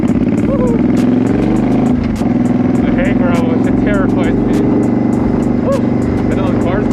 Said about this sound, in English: And then those cars coming.